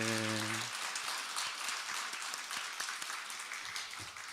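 A church congregation at a Wednesday evening service claps for one another, a dense, steady wash of applause across the whole stretch, fading slightly toward the end, after a brief tonal note at the start.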